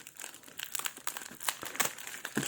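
Close-up crinkling and rustling of gift wrapping as a package of model cars is torn open, in quick irregular bursts.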